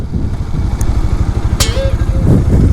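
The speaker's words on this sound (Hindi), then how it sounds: "क्या है ये मोटरसाइकिल इतनी ज़्यादा सॉफ्ट ब्रेक्स बहुत खराब है इसके" A motorcycle with soft, poorly performing brakes is ridden, its engine giving a steady, close low drone throughout, with a brief high whine rising above it midway.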